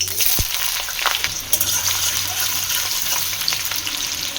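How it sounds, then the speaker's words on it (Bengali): Dried red chillies frying in a wok used earlier for fried rice, a steady close sizzle with occasional stirring clatter, no talking. "প্রথমে শুকনো লঙ্কাটা ভেজে নিচ্ছি, ওই ভাত ভাজার কড়াইটাতেই ভেজে নিচ্ছি।"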